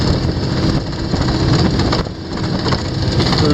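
Outboard boat motor cruising steadily at about 28 mph and 3,800 RPM near Delacroix, Louisiana, a loud continuous broadband roar with wind and water rush, holding nearly constant throughout.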